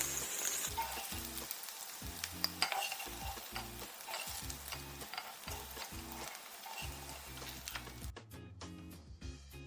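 Chicken pieces frying in a pan for chicken pizza, a steady close sizzle with repeated spatula scrapes and knocks, ending in a burst of brighter crackling.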